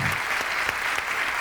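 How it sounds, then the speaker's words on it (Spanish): A gastronomy congress audience applauds a chef, giving a short burst of dense, even clapping that carries at full strength throughout. "Un aplauso para él, por favor."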